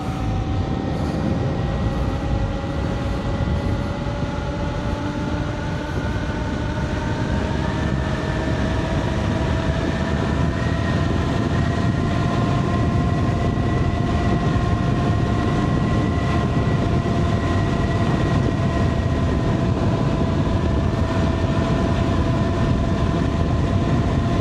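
A KuKirin G3 Pro dual-motor electric scooter runs at top speed, with high motor whine rising in pitch over heavy, constant wind rush and road roar that carry on throughout.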